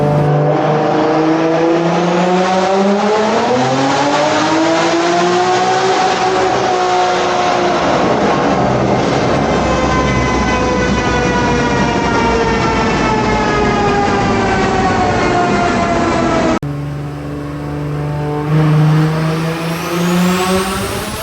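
Built BMW B58 inline-six with aftermarket cams revving hard and climbing steadily through the rev range, a loud sustained harmonic-rich engine howl that drops off briefly near the end before a short burst.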